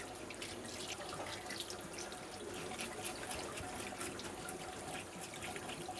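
Tap water runs steadily while a fish is scrubbed with a toothbrush to clean out the bloodline, a continuous close splash with a brief spoken word over it.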